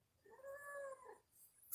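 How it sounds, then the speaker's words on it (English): A black cat gives a single drawn-out, wavering meow, close but quiet, followed by a brief rustle, with no voices. "She's a pretty black cat."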